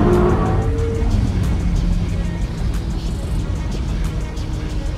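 A fast car is driven on a wet race track, its engine giving a steady loud roar with road and wind noise throughout, no talking.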